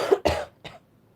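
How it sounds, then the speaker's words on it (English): One person gives a short cough, then clears their throat twice in quick succession, close to the microphone, with silence afterward. "Sorry I keep, like, coughing and clearing my throat"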